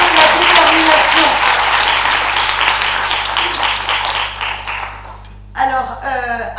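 Audience applause fills a hall at a colloquium in the French National Assembly, dense steady clapping that slowly thins out before a voice starts speaking near the end.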